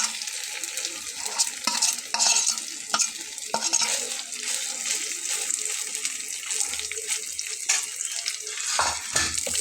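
Mashed young mankochu leaf bhorta paste frying in a pan, a close sizzle with frequent scraping stirs and sharp utensil clicks, plus some wet, watery bubbling, without speech.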